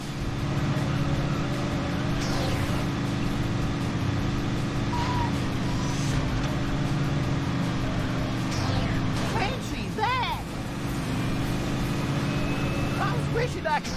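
Race car engines in Cars Race-O-Rama on PS3 drone as a constant, even hum throughout, with a voice talking briefly over it near the end.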